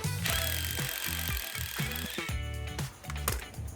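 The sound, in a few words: drill drilling through a broken screw head in a basement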